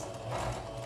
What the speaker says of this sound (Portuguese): vamos dar o retrocesso, porque toda costura começa com o retrocesso